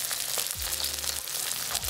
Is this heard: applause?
no